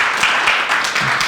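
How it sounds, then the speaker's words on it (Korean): Church congregation applause: a short stretch of steady clapping from a gathered crowd, moderately loud and even throughout. "우리 길동무 회원들 박수 한번 쳐주시죠"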